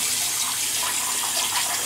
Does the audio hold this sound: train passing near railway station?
no